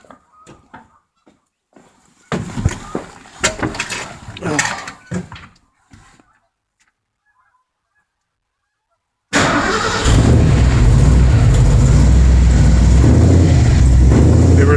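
A few clunks and a brief voice come first, then silence, then a cold engine with a rebuilt Autolite 4100 carburetor fires up abruptly and runs at a loud, steady idle close by.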